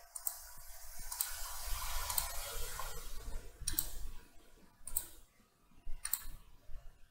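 Computer mouse clicks while a checkbox is inserted into a Word form: a handful of sharp, separate ticks spaced irregularly over the clip, close-up and fairly faint, with no one talking.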